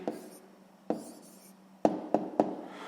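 Pen writing out a math answer on paper, with soft scratchy strokes and several sharp taps as numbers are jotted down, close and fairly quiet.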